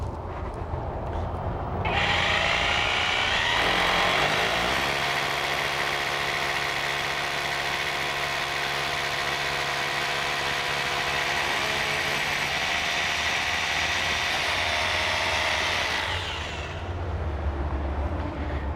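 Hilti hammer drill boring into a corner at a set depth, a loud continuous whining grind lasting about fifteen seconds after a brief start-up, heard close and alone.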